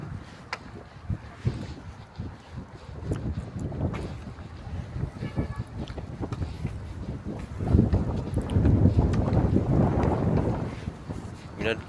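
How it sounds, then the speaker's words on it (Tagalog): Strong wind gusts rumble across the microphone outdoors, uneven and blustery, swelling louder in the second half while someone talks through much of it. "Lakas ang hangin doon."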